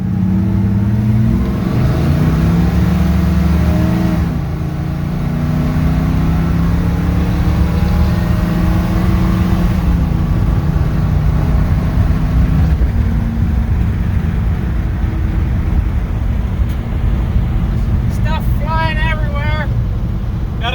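A restored classic truck with a cammed small-block Chevy V8 and low gearing drives and revs, its engine rising and falling in loud, rough throaty sweeps with wind buffeting, close to the microphone throughout.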